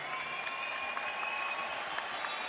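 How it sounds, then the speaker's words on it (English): A boxing arena crowd applauds after a world title featherweight fight between Josh Warrington and Carl Frampton, a dense continuous roar of clapping heard from a distance, even and sustained throughout. "Ladies and gentlemen, another round of applause, if you would, please, for Carl Frampton."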